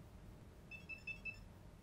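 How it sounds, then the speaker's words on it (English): A rocket avionics flight computer gives a short series of faint, high electronic confirmation beeps, three or four quick tones in a row over a low background hum. "There's that confirmation beep again, indicating that we've dumped all of the data from our flash memory into the SD card."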